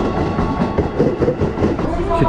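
A Jakarta Metro train idles at the platform before departure, a loud continuous rumble and hum with rhythmic rattling and clatter close by, over faint background talk.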